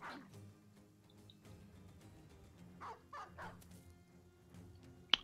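A dog barks a few times in the video game Battle Brothers, short faint yips scattered over a quiet backdrop of low game music.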